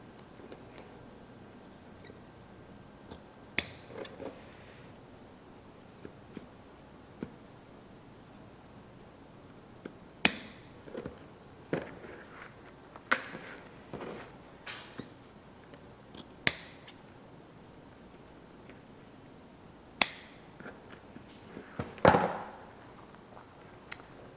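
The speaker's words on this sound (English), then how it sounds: "here's where you can cut off your extra zipper tape" Scissors trim excess zipper tape from a small leather trucker wallet, producing sparse, sharp snips and clicks spaced apart over a quiet background, with a slightly longer rustle near the end.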